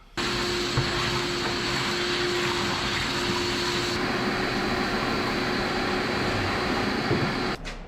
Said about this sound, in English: I'm gonna go grab the vacuum cleaner and we'll suck out as much of this as we can.